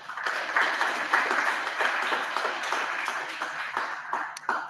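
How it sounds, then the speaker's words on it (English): An audience at a hacknight mapping talk claps for the speaker, a steady moderate applause with a few sharper individual claps near the end. "Can we give him another clap?"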